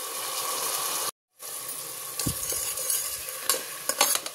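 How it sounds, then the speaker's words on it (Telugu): Puréed tomato paste fries in hot oil with ginger garlic paste for a chicken masala gravy, giving a steady close sizzle broken by a brief silence and a few scraping stirs and clinks. "ఈ టమాటో పేస్ట్ అంతా బాగా ఫ్రై చేసుకుందాం ఆయిల్లో"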